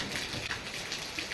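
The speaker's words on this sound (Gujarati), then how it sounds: "રાજકોટના અનેક ગ્રામ્ય પંથકમાં પણ વરસાદ થયો" Monsoon rain falls on villages around Lodhika near Rajkot in a faint, steady hiss with soft scattered drops, and no voices are present.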